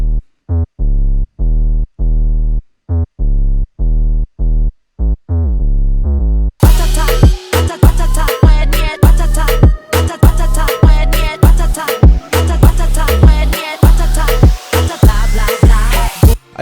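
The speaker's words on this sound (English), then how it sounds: "And a little bit basic 808 pattern" Basic 808 bass pattern from a moombahton remix in FL Studio, deep booming pitched notes in a rhythmic sequence, first alone, then joined by crisp drums and higher synth elements for a fuller loud groove.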